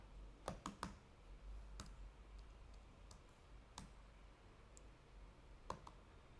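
Selenium test code is typed on a computer keyboard: scattered crisp clicks in small bursts and single taps with pauses between, close and clear over quiet room tone, no voices.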